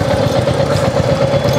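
A motorcycle engine idles close by, loud and steady, with an even low rumble that keeps going through the whole stretch.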